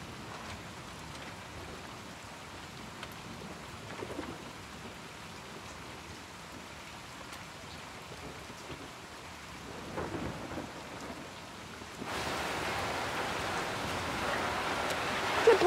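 Soft, steady rainfall patters outdoors with a faint thunder rumble. It swells into a louder, denser downpour near the end, and no one speaks.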